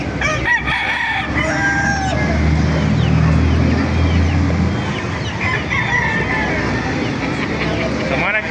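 Several roosters crow loudly and close by over constant clucking and chatter of a busy crowd at a chicken market in Baliuag, Bulacan, with people talking throughout.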